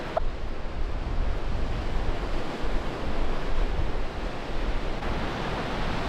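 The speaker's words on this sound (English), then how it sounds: "Oh, like look at these waves." Ocean waves breaking on a beach on the Gold Coast, Australia, a steady broadband roar of surf with continuous wash and wind buffeting the microphone, loud and unbroken throughout with no talking.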